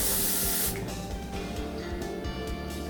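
Makeup setting spray hisses from its bottle in one loud, steady burst that cuts off sharply, followed by quiet room tone.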